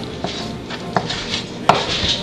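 A knife chops soft, marinated vegetables into small pieces on a board for a raw Italian-style soup, with a few sparse, crisp knocks spaced out over a quiet background.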